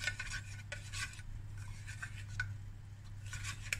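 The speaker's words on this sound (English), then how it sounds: "And then I'll just give it a slight stir." A spoon gently stirs a grilled masala pineapple, walnut and onion brown rice salad, producing soft intermittent scrapes and clinks against the bowl over a steady low hum.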